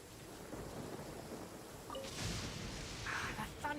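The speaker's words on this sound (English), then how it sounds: "That thunder's so loud." Thunder rumbling through a rainstorm in the video game Genshin Impact, a low continuous roll that swells louder toward the end over steady rain hiss, with no talk.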